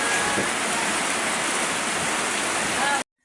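Heavy rain pours in a steady, dense roar that stays loud and unbroken for about three seconds before cutting off abruptly.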